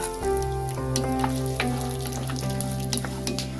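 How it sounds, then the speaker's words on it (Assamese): Peanuts frying in hot mustard oil in a pan on low flame, with a steady close sizzle and sharp scattered crackles and pops throughout, no voices. "এতিয়া আপোনাৰ শব্দ শুনিছে, ফুটিছে।"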